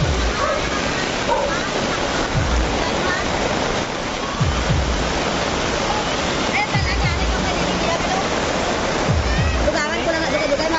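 Sea waves wash continuously after a typhoon along the flooded coast of Sitio San Jose, Sara, Iloilo. The roar stays loud and steady throughout, with low thumps of surging water and people talking faintly underneath.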